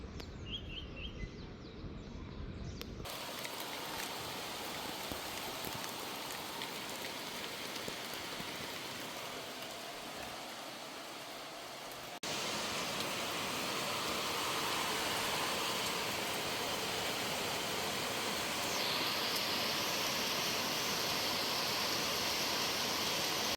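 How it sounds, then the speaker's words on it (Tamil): Rain falls steadily in Bangalore, a soft, even hiss that grows slightly louder partway through, with faint bird calls early on. "மழை பார்த்துட்டு வந்தேலா எப்படி இருந்தது?"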